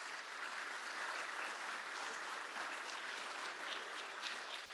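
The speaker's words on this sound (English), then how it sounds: "Let's give him a round of applause." A round of applause at a graduate student orientation welcoming an associate dean for admissions, steady even clapping from a sizeable crowd, somewhat distant and soft, sustained without a break.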